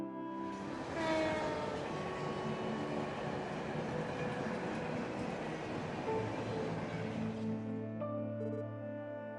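A train passes in the video game Trails from Zero, a loud sustained rush of rail noise and rolling wheels that fades out near the end, leaving a steady hum of background music.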